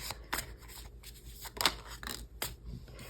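Tarot cards are pulled and shuffled from a deck, giving quick, crisp papery swipes and flicks in an irregular run of about six strokes, close and fairly quiet, with no speech.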